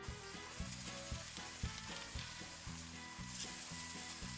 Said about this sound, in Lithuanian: Įkaitinom keptuvę, tai dabar kepam blynus.